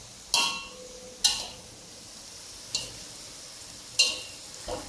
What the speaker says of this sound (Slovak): Dneska ráno sa už cvrčkovia smažia.